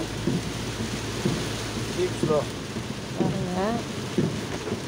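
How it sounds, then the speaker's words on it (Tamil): Heavy rain pours down steadily on a road between Kumbakonam and Mayiladuthurai while a car drives through it, a constant dense hiss, with a person talking intermittently over the downpour. "அந்த அளவுக்கு கண்ணே தெரியாத அளவுக்கு மழை"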